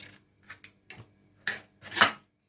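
Potatoes are cut with a sharp knife on a wooden board in a home kitchen, making a handful of soft, scraping slices at uneven intervals, close and quiet.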